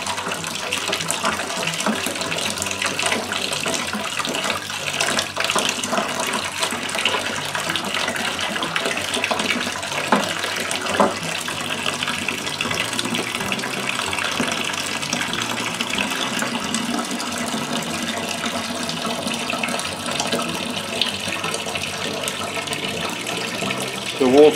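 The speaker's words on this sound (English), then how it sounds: "So we'll sparge our grain out until we collect up 6 gallons." Water pours steadily through a grain bed while sparging a fresh pumpkin and brown sugar whiskey mash, a continuous broadband gushing and splashing that stays loud and even throughout.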